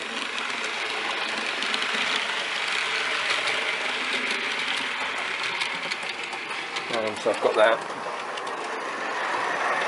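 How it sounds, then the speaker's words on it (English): Hornby Class 101 model train running on a layout, a soft whirring motor hum and light rolling clatter on track, heard close under someone talking throughout. "I think it's a class 101. Remember, I'm not up with my classes, but it's a Hornby one, which is quite cheap."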